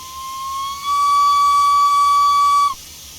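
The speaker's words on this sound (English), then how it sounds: "It is cool that the amount of steam coming out of the whistle does change" Steam whistle of a Chaplin vertical boiler 0-4-0 locomotive in Train Sim Classic, one steady shrill blast held for about two seconds, swelling louder partway through and then cutting off sharply.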